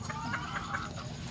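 Chickens clucking up close at feeding time, a few short repeated clucks over steady farmyard background noise, no talk.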